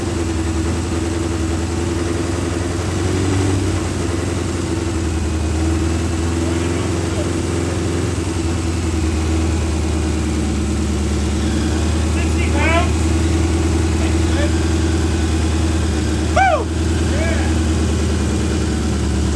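A freshly rebuilt Triumph Spitfire engine idles loudly and steadily up close, with an even low mechanical drone throughout and voices talking over it now and then.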